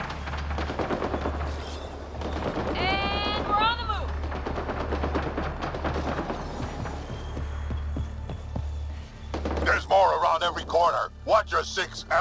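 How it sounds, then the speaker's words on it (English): Assault rifle fire in the video game Mass Effect Andromeda sounds in rapid bursts of shots with game effects mixed in, louder toward the end, while a person talks throughout. "Let's go back to the assault rifle."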